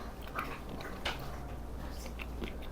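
Someone bites into bacon-wrapped dates stuffed with blue cheese and almond, giving quiet, close crunching and chewing in a few soft bites.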